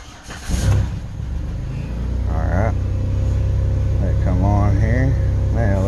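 Engine of a 2008 Chrysler Town and Country cranking and catching, then settling into a steady idle, heard close with someone talking over it.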